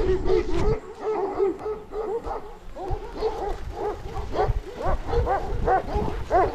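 Several large village dogs bark and yelp repeatedly in a rough, overlapping chorus close by, the barking growing busier toward the end.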